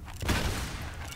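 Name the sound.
gunfire in Lara Croft video game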